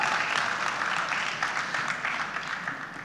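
Steady audience applause at the Ideas of India event fills the whole stretch, a dense crowd clapping that fades slightly toward the end.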